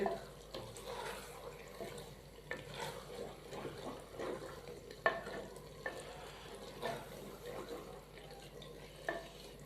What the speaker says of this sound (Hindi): थोड़ा सा सब्ज़ धनिया बारीक कटा हुआ, अच्छे से हम इसको मिक्स कर देंगे